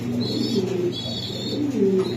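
Pigeons coo steadily on a farm keeping Pakistani teddy, damascene, racer and giribaz breeds, their low, throaty calls overlapping in a continuous, fairly close murmur with a few faint higher chirps above.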